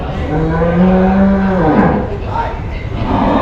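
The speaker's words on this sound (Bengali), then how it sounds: "এই টাকা টাকা গরুটা দেখতে ভালোই সুন্দর দেখা যাচ্ছে" A calm, well-groomed cow at a livestock exhibition lets out a loud, close, drawn-out moo that bends downward at the end, followed by fainter lowing and crowd noise.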